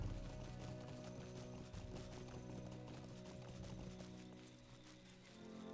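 Horses in the stables of the Lord of the Rings Online game, with faint, soft hoof clip-clops and stirring under low ambient game sound, heard from a distance.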